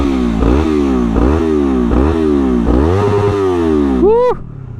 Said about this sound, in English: listen to that twin.